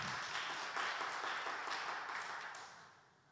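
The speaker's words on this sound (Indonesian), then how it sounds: "Beri tepuk tangan yang luar biasa." Church congregation applause during a Sunday worship service, a wash of many hands clapping together that holds steady and then tapers off at the end.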